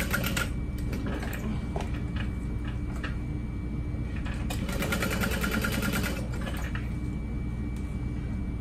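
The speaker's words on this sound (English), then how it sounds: "I'm just top stitching along the sides" A sewing machine top stitching along the sides of a crossbody bag, running in a steady continuous whir with rapid needle ticking, briefly louder and busier partway through, close and without talk.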